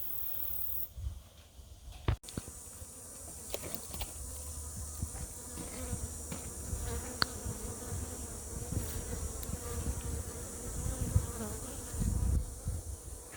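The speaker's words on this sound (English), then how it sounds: "putting them back together and waiting for the bees to calm down" Agitated honeybees swarm around a freshly reassembled hive on its stand, their steady, low buzzing hum droning continuously at a quiet level with a few louder passes close by.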